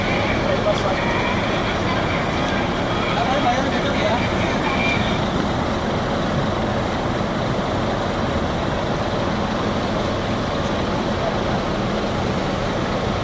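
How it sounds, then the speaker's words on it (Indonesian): Steady ambience of the Pondok Pinang Lebak Bulus bus terminal, a continuous loud wash of idling bus engines and roadway traffic rumble with faint background voices. "Inilah keadaan terminal Pondok Pinang Lebak Bulus"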